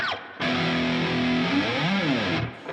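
An electric guitar through a distorted patch plays an intro solo: sustained, saturated notes held, then bent and swept up and down, loud and alone.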